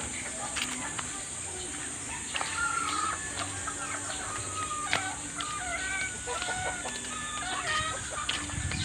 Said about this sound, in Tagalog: Puro maliit pang mga manok ko dito eh